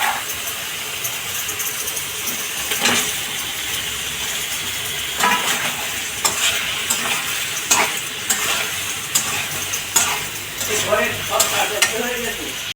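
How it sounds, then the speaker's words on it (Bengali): Pointed gourd (potol) frying in hot oil for a gandharaj potol curry, with steady close sizzling and scattered sharp clinks of a utensil stirring the pan throughout. "তেল ছেড়ে দিয়েছে। এইবার আমি পটলগুলো দিয়ে দেবো।"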